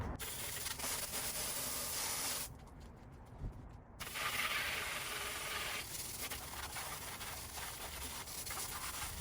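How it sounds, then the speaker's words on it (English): A garden hose sprays water over a mountain bike being washed, a steady close hiss of spray that briefly drops away and returns, continuing without talk. "Really just want to hose it down as much as you can."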